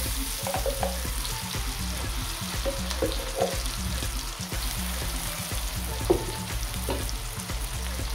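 Thai curry paste frying in a hot pan gives a steady close sizzle, with intermittent soft stirring scrapes and the odd louder clack of the utensil, no speech.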